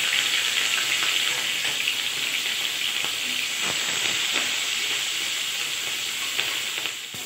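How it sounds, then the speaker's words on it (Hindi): Green chillies fry in hot mustard oil in a kadhai, giving a steady close sizzle and hiss that runs unbroken throughout, with faint crackles and light stirring taps. "गरम हो चुका है तो अब हम इसमें मिर्ची को डाल देंगे हल्का फ्राई करने के लिए।"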